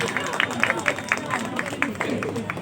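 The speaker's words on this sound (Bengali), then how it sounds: "ধীমানের জন্য একটা জোরে হাততালি।" Applause for a contestant who answered correctly on a theatre quiz show: a small audience claps steadily and fairly close, with scattered sharp claps over faint room murmur.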